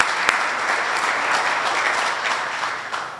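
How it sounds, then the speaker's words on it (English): A crowd at a veterans affairs office grand opening in a senior center gives a round of applause, a loud, steady rattle of many clapping hands with a sharp close clap near the start, tapering a little at the end. "give him a round of applause"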